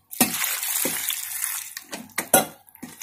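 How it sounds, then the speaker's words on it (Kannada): Water is poured into a pot of cooked dal and basale (Malabar spinach) greens for sambar, making a steady splashing rush followed by several sharp metallic clinks of a vessel and spoon. "ಸಾಕಾಗುವಷ್ಟು ನೀರು ಹಾಕಬೇಕು"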